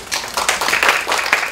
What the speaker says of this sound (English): we need to give them a big clap